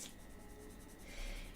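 Soft scratchy strokes of an Aquarelle Fontaine coloured pencil moving across paper, close and quiet, in a brief continuous rub.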